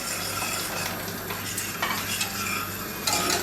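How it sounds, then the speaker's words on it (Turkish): Boiling water goes into a pan and is stirred, giving a close sizzle and churning of liquid with a few louder scraping swirls, and no talk. "Şimdi kaynar su dökeceğim."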